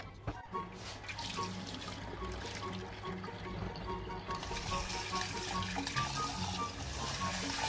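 Kitchen tap running water into a bowl of halved tomatoes for soaking, a soft steady splashing flow that grows slightly fuller partway through, with no talk.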